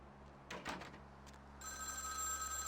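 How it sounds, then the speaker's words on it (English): Telephone ringing in the video game Vampire The Masquerade Bloodlines: a steady electronic ring starts partway in and continues to the end, loud and close, following a few muffled knocks or footsteps. "Phone. I know."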